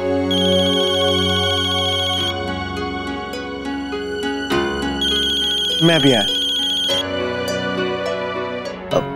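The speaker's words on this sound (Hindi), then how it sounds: "ये फोन है या गले की घंटी? जब देखो बजती रहती है।" A phone ringtone plays loudly as a repeating electronic melody, and a voice speaks briefly over it partway through.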